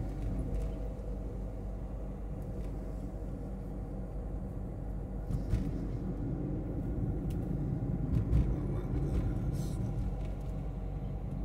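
A car rolls slowly through a village, its steady low engine rumble and road noise holding throughout, with faint tyre and body noise and a few brief bumps along the way.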